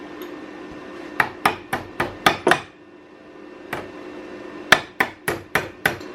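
Metal flanges for a turbo manifold external wastegate on a Miata being bent into shape with a hammer: two bursts of sharp, close metallic blows, five or six quick strikes each, separated by a pause with a single hit.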